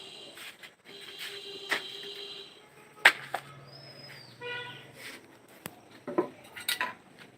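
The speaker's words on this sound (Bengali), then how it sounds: "তাহলে চলো আমরা কেটে নিই মাছটা" Catla fish being cut on a bonti blade, with sharp metallic scrapes, clinks and knocks scattered irregularly across the clip, close and fairly clear with no talk over them.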